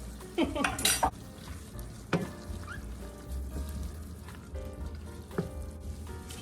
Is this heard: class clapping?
no